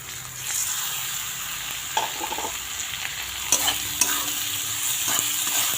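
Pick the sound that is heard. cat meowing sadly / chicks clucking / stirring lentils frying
stirring lentils frying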